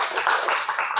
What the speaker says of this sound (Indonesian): kasih tepuk tangan untuk Nadira.